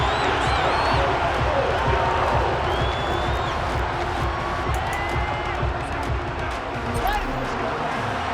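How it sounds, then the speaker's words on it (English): Stadium crowd in Madden 23 during a Bears vs Lions game: a steady, loud roar of many voices with cheers and whoops rising throughout, under commentary. "Well, the crowd's not doing that O-line any favors."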